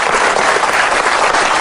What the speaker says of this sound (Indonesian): Boleh tepuk tangan untuk Ibu Naf.